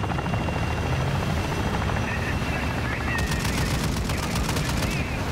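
Gunfire rattles through a shooting video game over a dense, steady roar that sounds like a helicopter or aircraft engine. Rapid bursts come in partway through, loud and close.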